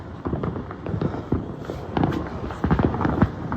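Fireworks bursting at an outdoor display, a dense run of sharp cracks and booms at close to moderate distance, with crackling trails between the louder pops and no talk over them.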